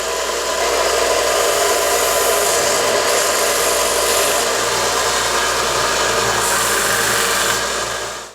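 Steady power tool smoothing and sanding a wooden rosary bead, a continuous rough whirring and rubbing that runs loud and unbroken for the whole stretch with no talk.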